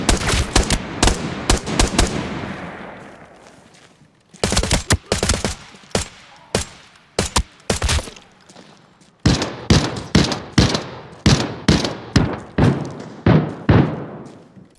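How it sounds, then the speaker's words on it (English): Rapid bursts of video game gunfire, loud and close, coming in clustered volleys separated by short pauses, with a steady run of repeated shots near the end. "Good lord, these guns are fantastic."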